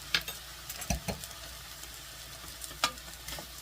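Garlic and vegetables stir-fried with wine in a pan, a faint sizzle under a few sharp spatula scrapes and taps, close and quiet, no voices.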